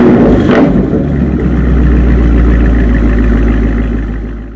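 A Chevrolet Camaro 1LE with a loud aftermarket exhaust and no quiet mode gives a deep, loud, close exhaust rumble. It swells with a brief rev near the start, holds steady, then fades at the end.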